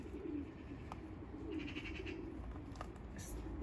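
Janssen strain racing pigeons coo softly in an old loft, a low murmuring under a steady background hum with a few faint higher chirps breaking through.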